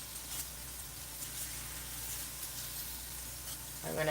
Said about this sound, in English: The bacon is sizzling over there.